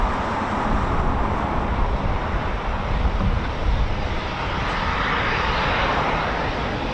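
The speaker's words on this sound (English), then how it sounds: "Look at the Typhoons now." Eurofighter Typhoon FGR4 fighter jets at RAF Coningsby QRA station produce a steady, loud broadband engine roar that holds throughout without talk.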